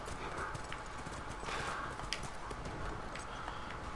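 Horses in The Last of Us video game clip-clop at a steady walking pace, close and fairly loud, with faint game ambience around the hooves.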